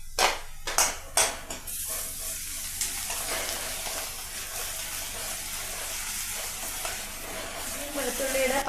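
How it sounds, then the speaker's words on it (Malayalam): Ground ginger and garlic frying with softened onions for soya bean sabji: a few sharp clattering hits from the spoon, then a steady hissing sizzle throughout, with a soft voice talking faintly over the frying. "അതിലേക്ക് നമുക്ക് അരച്ചെടുത്ത ഇഞ്ചിയും വെളുത്തുള്ളിയും ചേർത്ത് കൊടുക്കാം."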